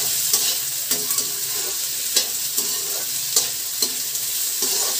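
Potatoes, onions and capsicum fry over high heat in a pan, giving a steady bright sizzle broken by repeated scraping stirs about once a second, close and fairly loud with no talking.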